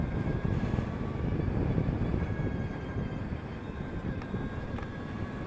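Energica Eva EsseEsse 9+ electric sportsbike riding at speed, a steady broadband rush of wind noise with a faint high motor whine running continuously underneath.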